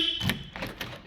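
Power door locks on a Porsche 996 Convertible actuate with a few short, quiet clicks and thuds spaced across about a second, close by with no talk.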